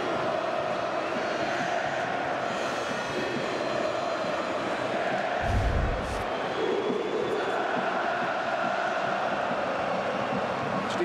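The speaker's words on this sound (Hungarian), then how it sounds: "Felállva tapsol a Groupama Arena közönsége." Football crowd at Groupama Arena giving a standing ovation after a goal, a dense, steady roar of clapping and cheering across a big stadium, with a short low thump partway through.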